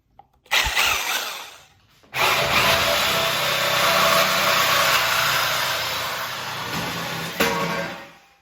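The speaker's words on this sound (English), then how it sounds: "I just cut the exhaust in half" A power tool cuts through a car exhaust pipe on a Nissan 350z, a loud, sustained grinding rasp that starts briefly, pauses, then runs for several seconds before winding down.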